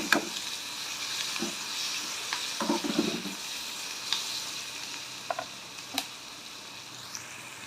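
Onion and small bitter gourd frying in plenty of oil in a pan: a steady close sizzle, broken by occasional scraping stirs and light clicks.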